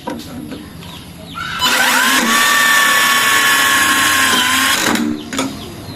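Dongcheng (DC) cordless impact driver on its level 4 setting driving a screw tight: one loud, close burst of several seconds of rapid hammering whir with a rising, sustained whine, then it stops. No one speaks.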